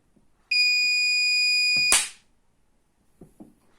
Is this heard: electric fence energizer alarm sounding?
yes